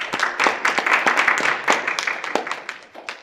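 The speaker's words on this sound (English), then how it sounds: "Let's give them a round of applause." Applause from the audience at a City of East St. Louis town hall meeting: a dense, steady wash of many hands clapping close by, with sharp individual claps standing out, fading slightly toward the end.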